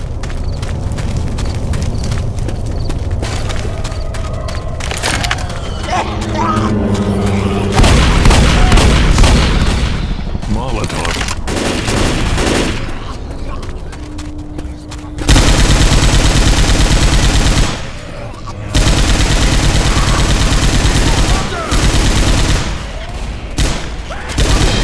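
Heavy gunfire in Left 4 Dead 2 keeps going almost nonstop, loud sustained automatic shooting mixed with booms and dense game noise, with no voices.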